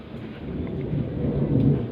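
Steady rain falls through the whole stretch, a dense, continuous patter that swells slightly toward the end, heard alone with no talking.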